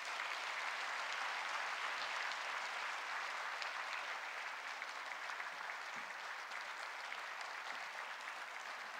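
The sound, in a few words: applause welcoming speaker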